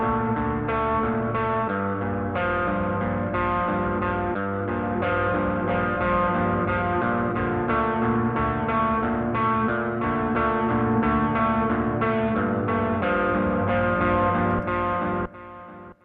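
Music track in GarageBand with the echo effect turned up to maximum, repeats locked to 90 bpm; a dense, sustained harmonic mix plays steadily and loud for about fifteen seconds before dropping away at the end.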